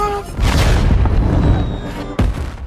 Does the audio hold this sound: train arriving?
no